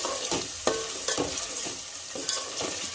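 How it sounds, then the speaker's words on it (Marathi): Kolhapuri misal gravy with dry spices and Kashmiri red chili powder fries in a pan, giving a steady soft sizzle broken by repeated scraping stirs in an uneven rhythm, close and fairly quiet with no talking. "हे सुद्धा आपल्याला 2 ते 3 मिनिटं छान असे फ्राय करून घ्यायचे आहे।"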